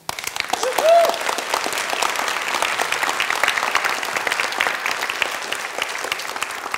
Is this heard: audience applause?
yes